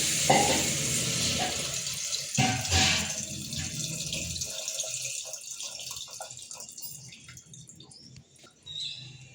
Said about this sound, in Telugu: అందులో నీళ్లు రసం పిండుకొని ఆ నీళ్ళు అయితే యాడ్ చేస్తున్నాను